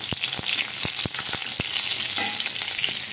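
Whole spices including cinnamon stick, cardamom and slit green chillies fry in hot oil, a loud, continuous sizzle up close punctuated by several sharp taps and scrapes of a stirring spoon against the pan, no talking.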